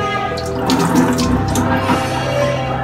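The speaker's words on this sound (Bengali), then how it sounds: "এখন খালি একটু ধুয়ে নিব হালকা করে।" Water runs steadily from a kitchen tap as a cut boiled egg is rinsed under it, with a close, continuous splashing.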